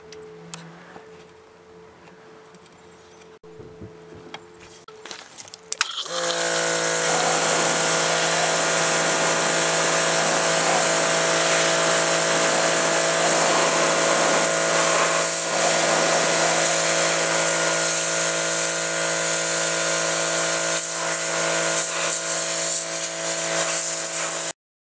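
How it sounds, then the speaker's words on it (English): A Briggs & Stratton electric pressure washer starts up after quiet handling and sprays metal in a loud, steady hiss with a whining motor tone, continuing unbroken for about twenty seconds before cutting off. "I'm going to hold it probably 3 inches away from the metal and see how it sprays"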